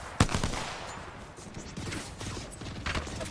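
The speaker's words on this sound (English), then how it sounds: "Shots coming out." In a competitive PUBG Battlegrounds match, a sharp gunshot cracks near the start, followed by quieter, scattered bursts of distant gunfire amid ambient game noise.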